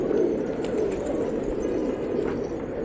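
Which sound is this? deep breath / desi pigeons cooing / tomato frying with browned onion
desi pigeons cooing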